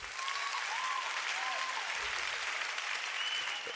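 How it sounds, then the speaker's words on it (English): Audience applause fills a town hall meeting at a Lagos law week event, a steady sustained clapping from a large crowd throughout, with no speech over it. "part of your job here is to clap now"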